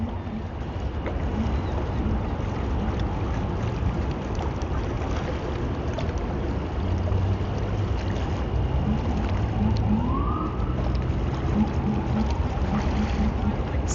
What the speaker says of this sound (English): Waves of the East River beating on the rocks.